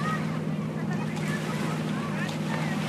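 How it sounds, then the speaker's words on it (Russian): Ocean surf washing steadily with a broad, continuous roar, with wind noise on the microphone and a voice talking over it. "либо вот так вот под шум прибоя"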